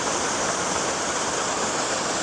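Waterfall at Fairy Glen, Appley Bridge, heard as a loud, steady, unbroken rushing roar of falling water close by, with no other sounds.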